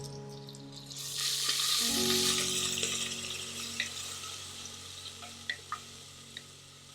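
Ginger and crushed small shallots drop into a hot pan with a sudden burst of sizzling that swells, then gradually settles to a softer fry, punctuated by a few light spatula taps and stirs.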